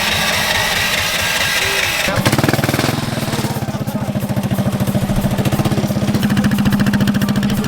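A built car's engine idles through a proper aftermarket exhaust: after about two seconds of quieter background, a loud, close, steady low burble with a rapid pulsing rhythm settles in and holds to the end.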